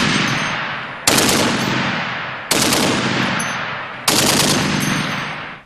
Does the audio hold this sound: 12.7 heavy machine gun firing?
yes